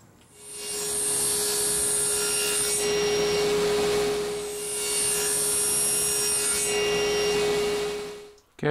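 A saw cuts through pen blanks to length in a workshop, two long sustained passes of steady rasping with a brief dip between them, close and fairly loud with no talking.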